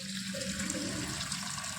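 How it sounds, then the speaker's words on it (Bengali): Water gushing steadily from a kitchen tap, a continuous hissing flow heard alone and at close range throughout. "এবার আমি কল চালু করে দিচ্ছি"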